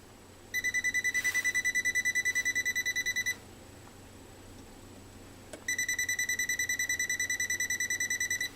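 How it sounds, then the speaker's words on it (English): Rapid, high-pitched electronic beeping from a voltage tester, checking a Featherweight Bakelite foot control, comes in two bursts of about three seconds each, separated by a brief quiet pause, close by. "You get that quick little beep"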